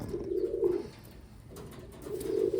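A pigeon gives two low, throaty coos close by, each a soft rolling call, separated by a short quiet gap.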